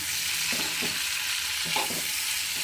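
Onions and tomato fry in a pan with a steady hiss and sizzle, and a spatula scrapes and stirs in several soft strokes, close and with no talk.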